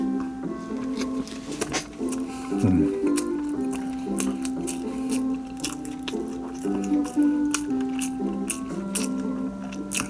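A soft GS25 double egg sandwich with fried egg, egg sheet, cheese and ham gets bitten from the corner, giving a brief squishy bite and moist chewing close up over a steady background hum, with faint talk.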